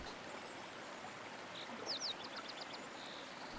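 A creek flows beneath a bridge in a soft, steady wash of water, faint and continuous, with a brief bird chirp passing over it.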